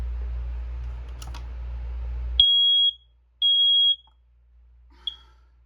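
A bedroom smoke alarm under test gives two loud, sustained high-pitched beeps followed by a short chirp, alone after a low background hum from a running washer cuts off.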